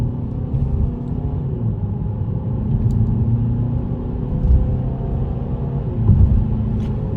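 A Peugeot 508 1.5 BlueHDi Allure diesel sedan pulls away from a standstill, heard from inside as a steady low engine rumble with road hum and no clear revving peaks, staying fairly constant throughout with no talking.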